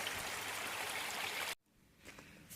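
A deep, fast-flowing mountain stream rushes with a loud, steady broadband roar that cuts off abruptly partway through, leaving only faint trickling and rustling.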